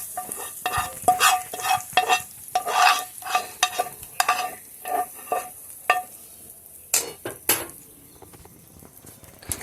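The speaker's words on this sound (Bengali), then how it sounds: "দিয়ে ভালো করে গ্রেভিটার সাথে এই মশলাটাকে ভালো করে মিশিয়ে নেব" A spoon stirs spice paste into gravy in a pan for a vegetarian potato dish, scraping and clinking in repeated close strokes against a faint sizzle, with no talking.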